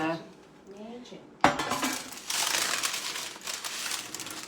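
A raisin loaf is lifted out of a parchment-lined loaf pan, with a sharp metal clank followed by a stretch of crinkling, rustling paper close by.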